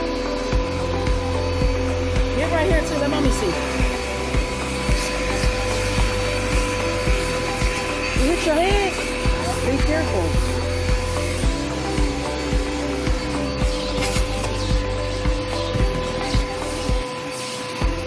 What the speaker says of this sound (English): I'm vacuuming too, guys, a little bit.